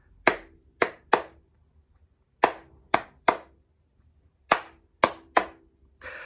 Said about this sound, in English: I want you to hold your hands up and I want you to clap this rhythm with me.